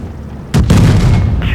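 A tank is destroyed by an explosion in the video game World of Tanks Blitz, a sudden loud boom that rumbles and crackles for about a second, close and heavy.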